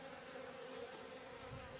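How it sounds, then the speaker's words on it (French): Honeybees swarming at an opened hive make a dense, continuous buzzing drone, steady and unbroken, faint yet filling the space with no voices. "Les abeilles s'agitent, mais dès que la ruche est refermée, le calme revient."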